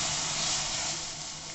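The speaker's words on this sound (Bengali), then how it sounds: "এই পাত্রের মধ্যেই আমি হাফ লিটার দুধ দিচ্ছি।" Half a litre of milk pours into a hot kadai used just before for frying makhana, making a steady loud hiss and steamy sizzle that fades slightly toward the end.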